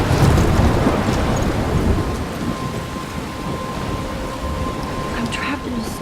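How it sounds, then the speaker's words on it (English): Stormy scene from the video game Life is Strange: a dense roar of heavy rain with rumbling thunder, loud and continuous throughout, with no one speaking. "I'm trapped in a storm?"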